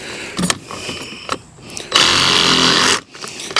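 A power saw blade cuts into a rotten wooden deck joist during an outdoor deck teardown: short rough bursts, then a loud sustained buzzing cut lasting about a second before it stops.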